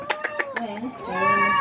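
A cat gives a quick run of short, sharp meows followed by a longer, drawn-out wailing meow, close and fairly loud.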